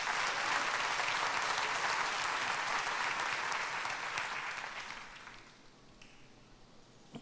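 A church congregation giving a loud round of applause to the Lord, sustained dense clapping for about five seconds before fading to quiet.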